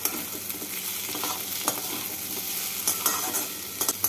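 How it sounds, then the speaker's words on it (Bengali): Pumpkin pieces fry in a pan for a bitter gourd and pumpkin bothi, a steady hiss of frying with repeated stirring scrapes and clatters of the spoon throughout. "কুমড়োগুলোকে নাড়াচাড়া করে কুমড়োগুলোকে একটু লাল করে ভেজে নিচ্ছি।"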